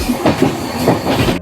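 The LTT Super Fast Express runs on the track past hills near Lonavala, a loud close rumble of carriages with rhythmic wheel clatter throughout.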